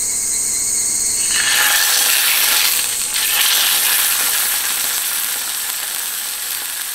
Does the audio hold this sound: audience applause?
no